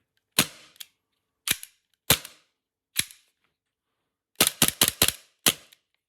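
An ICS Korth PRS gas blowback airsoft pistol snaps off sharp, loud cracks with mechanical clacks of the slide, first four spaced single shots and then a quick run of five in succession, close up with no talking.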